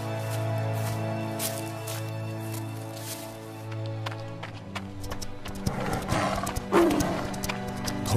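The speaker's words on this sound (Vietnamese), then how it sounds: "Thôi nguy to, sói dữ." A fierce wolf growls in a 3D animated fairy tale, a low, rumbling snarl over a sustained musical drone, rising into harsher, louder growls and rustling toward the end.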